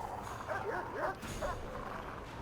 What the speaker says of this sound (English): their handler has been taken out, which means the dog is not overly happy about that